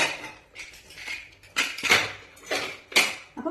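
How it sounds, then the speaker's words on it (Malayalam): Metal clanks and scraping rattles come from a pressure cooker lid being worked open after the pressure has been released from pumpkin cooked for payasam. The bursts are close and uneven, with no talking. "അപ്പോൾ കുക്കറിന്റെ എയറൊക്കെ പോയിട്ടുണ്ട്. നമുക്ക് തുറക്കാം."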